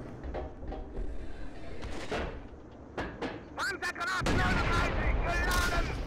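Tank gun shots in the video game Steel Fury: Kharkov 1942, a few sharp booming blasts over a steady engine rumble and game noise, with a heavier impact near the end.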